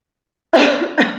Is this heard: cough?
yes